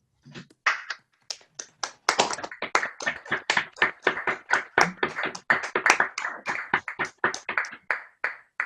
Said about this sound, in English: give Jim another round of applause for a great talk